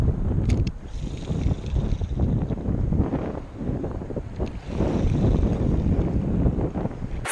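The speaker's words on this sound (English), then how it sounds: "Spot number one, no bueno, too windy." Strong wind buffets the microphone on a lake during a walleye fishing trip from a boat, producing a continuous, loud, gusty roar that swells and dips throughout with no voices.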